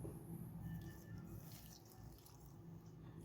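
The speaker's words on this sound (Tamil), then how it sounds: "கொஞ்சோண்டு புளித்தண்ணி" Little tamarind water poured into a mix of ingredients while making shallot thokku, a faint, soft trickle and light splashing heard close and quiet, with no voices.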